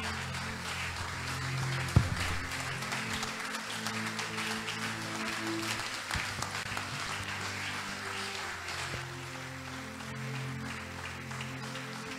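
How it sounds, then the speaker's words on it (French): A church audience applauds and cheers as a preacher steps forward, a steady wash of clapping with a few louder claps, continuing evenly throughout. "lorsqu'il s'avance, nous acclamons"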